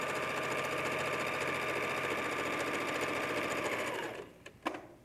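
A sewing machine stitches quilt pieces in a fast, steady mechanical whir for about four seconds, then stops, followed by a couple of brief handling clicks.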